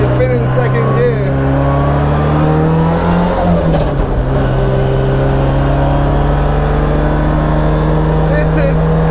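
A drift car, either a Corvette C6 or an SR20-swapped MX5, pulls hard through the gears on track, its loud engine note climbing steadily with a brief dip around a shift, close and continuous, with a voice talking over it.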